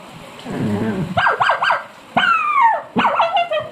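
A voice imitates a big dog attacking a small dog, with low growling followed by several sharp yelping barks and drawn-out whimpering cries, close and alone.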